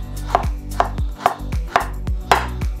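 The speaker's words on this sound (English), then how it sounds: "just roughly chop it" A knife roughly chops a thumb-sized, unpeeled piece of ginger for Chinese char siu barbecue pork, five sharp evenly spaced chops on a board, close and clear with no talk.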